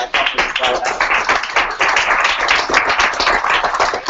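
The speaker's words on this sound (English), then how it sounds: "keep the applause going" Audience applause at a Startup Weekend NYC EDU 2014 pitch event, a dense steady wash of many hands clapping, loud and sustained throughout with no pause.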